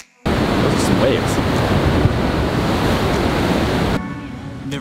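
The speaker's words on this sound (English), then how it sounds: "Those are some waves." Ocean surf breaks on the shore beside the 18th green at Pebble Beach, a loud, continuous wash of roaring waves with wind buffeting the microphone.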